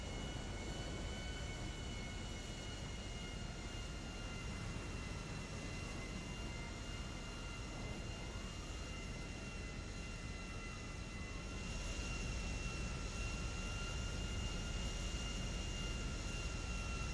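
A jet plane engine in the GTA 5 video game, a steady loud drone with high whining tones that holds throughout and swells slightly louder near the end, with no talk.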